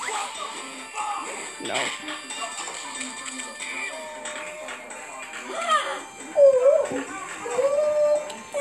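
A hurt puppy whimpers and yelps in thin, high whines, several short cries rising and falling under nearby conversation.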